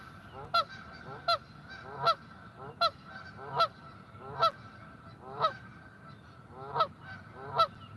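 Geese honk in a steady series of about a dozen loud, close calls spaced under a second apart at a spring carp fishing spot, with low ambient rumble between them.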